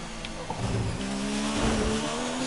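Race car braking hard into the chicane at Monaco in the F1 2019 video game, a loud continuous engine note dropping in pitch with faint tire squeal, close and steady throughout.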